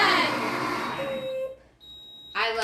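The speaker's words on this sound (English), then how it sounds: "I love that sound. That beep." A kitchen timer gives a short, clear electronic beep between stretches of people talking nearby.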